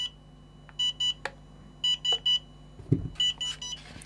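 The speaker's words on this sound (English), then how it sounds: "and there are three beeps." A BetaFPV LiteRadio 2 SE radio controller beeps during stick calibration, giving several groups of short, clear electronic beeps in quick sets of two or three, close and distinct, with light handling clicks between them.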